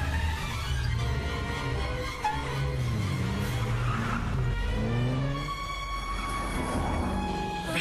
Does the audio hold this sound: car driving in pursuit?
yes